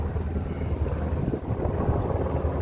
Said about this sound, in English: I think that's a US chopper, by the way.